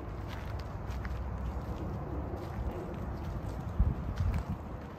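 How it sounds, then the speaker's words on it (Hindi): Horses walking around at an outdoor riding club, soft scattered hoof clops on ground under light wind and open-air background noise, fairly faint with a couple of firmer steps near the end. "यहाँ पे है सारे घोड़े, शनाया वाला वाइट घोड़ा वो पीछे है और बाकी सारे घोड़े भी इधर ही घूम रहे हैं।"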